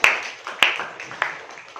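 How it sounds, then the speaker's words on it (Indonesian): Sparse claps in a classroom for a student group, a few distinct hand claps spaced out over under two seconds, thin and close rather than full applause. "tepuk tangan untuk kelompok 1"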